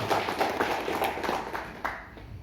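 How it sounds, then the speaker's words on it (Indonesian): Applause from the audience at a sharia business seminar, a dense wash of many hands clapping fairly close and steady for a couple of seconds, tapering off at the end. "tepuk tangan buat PT Bapak Ibu semua"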